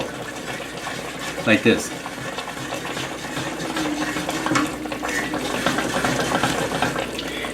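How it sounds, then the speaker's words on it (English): Short ribs are swirled in a pot of reducing five-spice teriyaki sauce, giving a soft bubbling, liquid churn with a couple of brief clunks early on, running steadily under a man's speech. "once in a while I will come over to my pot, just give them a quick swirl"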